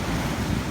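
Big storm waves on the open sea, a loud continuous roar of surf and wind buffeting the microphone, with no voices.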